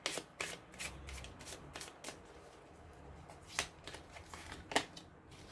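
Tarot cards being shuffled by hand in close, quiet riffles and slaps, with irregular sharp card snaps over several seconds.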